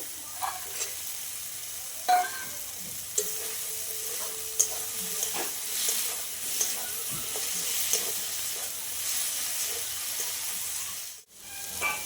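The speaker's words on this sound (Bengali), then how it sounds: "আমি এইগুলোকে এবার দিয়ে দেবো বড়াগুলোকে এর মধ্যে" Lentil fritters are stirred into a taro stem curry as it fries in the pan, with a soft continuous sizzle, occasional spoon scrapes and clicks close up, and no talk.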